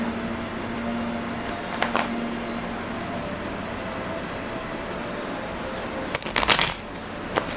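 Green Witch Tarot cards being shuffled close up, a soft steady papery riffle under a faint background hum, with a couple of louder crisp bursts of card riffling near the start and again near the end.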